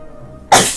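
A single sudden, loud sneeze bursts out close up after a quiet stretch of low background hum.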